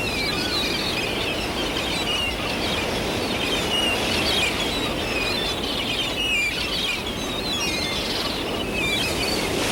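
Small birds chirp outdoors in a string of quick, high tweets and short calls scattered over a steady background hiss, continuing without a break at moderate distance.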